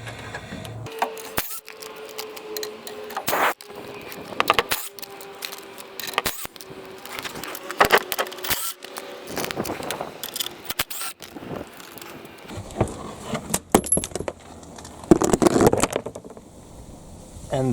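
Bolts being quickly zipped out of the skid plate under a 2000 Chevy Blazer with a 4.3L V6: a steady mechanical whine runs beneath sharp clicks, rattles and metallic taps, with no talking.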